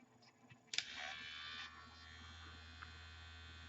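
A Neutrogena electric facial cleansing device with an abrasive pad switches on after a small click and keeps up a faint, steady buzz for a few seconds in a quiet room.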